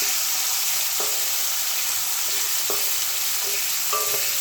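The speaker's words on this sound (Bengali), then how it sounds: "এটা দিয়েও আমি 1 মিনিট মতো নেড়ে নেব" Radish and carrot sizzle steadily in a hot pan while a utensil scrapes and stirs them a few times at intervals.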